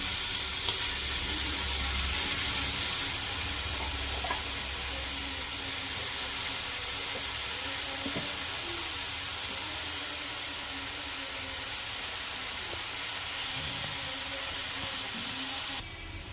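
Chopped cabbage sizzling in a hot pan for chicken momo filling, a steady close hiss and crackle of frying that holds throughout and eases slightly near the end.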